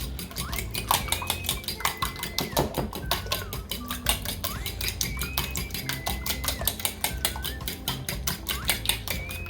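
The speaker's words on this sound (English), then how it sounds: "I'm actually just going to use the same fork and just quickly whisk these together" A fork whisks muffin batter ingredients in a bowl with rapid, steady clicking and scraping strokes against the sides, quick and close throughout.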